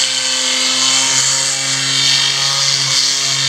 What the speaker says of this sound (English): I'm going to take this little sander and just smooth out the rotor a little bit